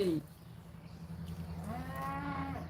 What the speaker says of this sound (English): Do you hear the cows